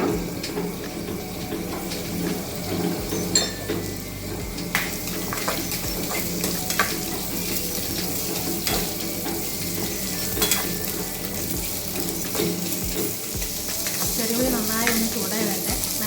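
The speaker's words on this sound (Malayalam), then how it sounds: "കടലപ്പരപ്പ് നന്നായി ചൂടായി വന്നിരിക്കുകയാണ് ഇനി ഇതിലേക്ക് ചെറിയ ഉള്ളി ചേർത്ത്" Small onions and chana dal frying in hot oil in a pan for Kerala-style puli inji, a steady dense sizzle with occasional stirring scrapes throughout, with no talk.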